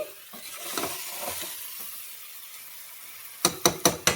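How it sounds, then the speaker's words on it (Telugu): Vegetable pieces fry in oil for a village-style vegetable curry, giving a steady soft sizzle with faint stirring. Four sharp, quick clinks of a utensil against the pan follow at the end. "ఇప్పుడు చూసారా ముక్క అనేది బాగా ఆయిల్లో అనేది వేగింది"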